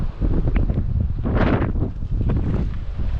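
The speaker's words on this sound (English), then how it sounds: "It is, however, very, very windy today" Strong coastal wind buffets the microphone in a steady, loud roar with gusts swelling and easing, on a sunny day along the clifftop route toward Land's End.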